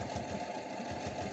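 A sewing machine runs steadily while stitching fabric for a bralette, a fast, even mechanical whir with a rhythmic pulsing motor tone, fairly quiet and close, with no talking.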